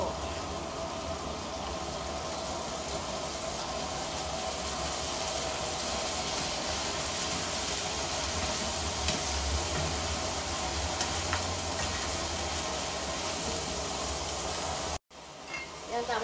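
Freshly picked string beans (sitaw) are stirred in a hot pan, producing a continuous, fairly soft, rain-like sizzle for about fifteen seconds before it briefly cuts out near the end.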